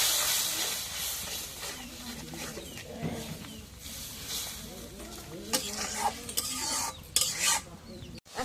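A spice paste with ground cumin and garlic fries in a pan, giving a steady sizzle and hiss with bursts of stirring and scraping, loud and close, while someone talks over it.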